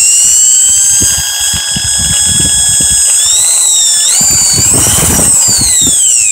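A homemade vortex accelerator spins up with a loud, continuous high whine that climbs and wavers in pitch over a rattling mechanical rumble, close and steady throughout.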